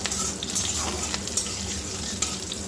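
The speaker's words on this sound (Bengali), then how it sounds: "এরপরে দিয়ে দেবো আমি একটুখানি পাঁচ ফোড়ন আর দিয়ে দেবো হচ্ছে দুটো কাঁচা লঙ্কা" Panch phoron and green chillies sizzle in hot oil in a pan, a close crackling hiss with sharp spitting pops and brief stirring scrapes throughout.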